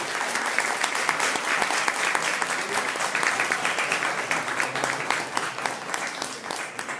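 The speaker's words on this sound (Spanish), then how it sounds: "Fuerte el aplauso, por favor." An audience at a book presentation in a hall applauds loudly and steadily, many hands clapping in a thick, continuous roar that carries for the full stretch without pause.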